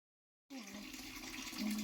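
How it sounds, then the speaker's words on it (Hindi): Water flows steadily at a natural spring in a cave garden in Meghalaya, starting abruptly and continuing as a close, even rushing stream. "बहुत खास है यहाँ पे ये पानी का जो स्रोत है।"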